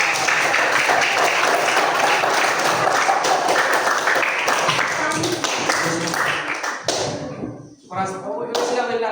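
A class claps hands in a micro-teaching lesson, a loud burst of scattered clapping and thumps for several seconds that thins out, followed by children's voices talking and singing.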